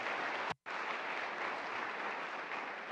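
An audience claps steadily at a school convocation, a dense wash of applause with one brief gap near the start.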